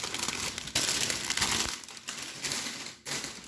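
Scissors slicing through crinkly basket packaging material for a homemade Valentine's Day gift basket, a close, continuous crumpling and crackling rustle with brief pauses, no talking.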